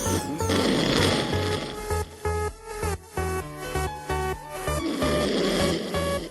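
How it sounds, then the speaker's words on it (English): Loud, close snoring repeats in a steady rhythm of deep rasping breaths, about six or seven snores with short gaps between them and no talking over them. "We can edit them snores out."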